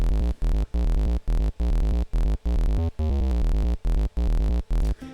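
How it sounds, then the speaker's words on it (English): A synth bass line plays alone in short rhythmic stabs with brief gaps, a round, mostly pure low sine-wave tone with a little saw wave adding a slight buzzy edge. "it's just a sine wave with a bit of saw in it"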